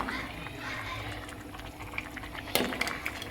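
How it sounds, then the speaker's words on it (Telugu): Gongura and dried shrimp curry boiling in a pot on a home stove, a steady bubbling simmer with soft pops, plus a brief louder clatter near the end. "గోంగూర ఎండి రొయ్యలు కూర ఉడికిపోయింది బాగా"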